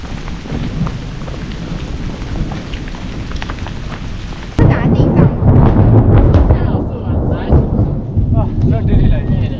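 Heavy rain pours steadily on a Mardi Himal mountain trail in Nepal, then a loud thunder crack hits midway as lightning strikes a tree, and the storm grows louder, with a rushing downpour and rumbling; hail is not clearly distinct.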